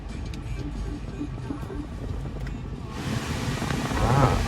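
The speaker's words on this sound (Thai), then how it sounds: "ในกล้องอาจจะได้ยินเสียงนะพัดลมนะครับนี่ลมแรงมาก" The air conditioning fan in a raised 2022 grey Isuzu D-Max Cab pickup blows hard from the dashboard vents, a loud, steady whooshing rush that grows stronger and brighter about two-thirds of the way through.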